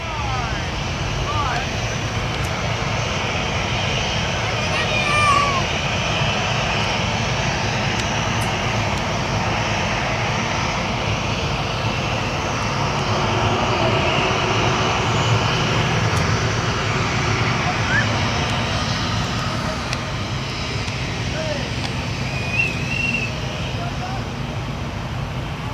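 A Virgin Australia jet departs for Sydney from a coastal airport, its engines a steady, moderately distant rumble and whine that swells slightly midway, while a person talks over it now and then.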